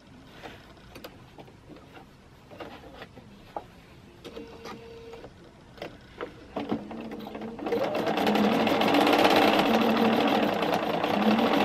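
Sewing machine stitching quilt kaleidoscope triangle pieces, quiet handling and clicks at first, then the motor starts and runs steadily and loud for the last few seconds.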